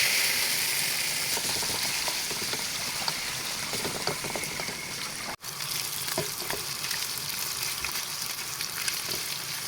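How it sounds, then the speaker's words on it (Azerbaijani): Marinated chicken fillet frying in a lightly oiled pan for dรถner, a dense continuous sizzle and crackle of hot oil, close and steady with small pops, broken once by a brief dropout, no voices. "Az yağ əlavə edilmiş tavaya töküb bişiririk."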